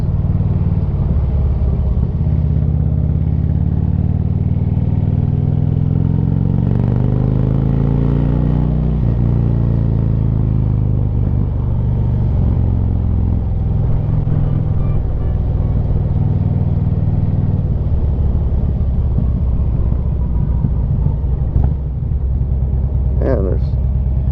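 A new Harley-Davidson Ultra Classic motorcycle cruises through Niles Canyon with a continuous deep engine rumble and steady wind roar, loud and close throughout, its pitch rising and falling with throttle changes.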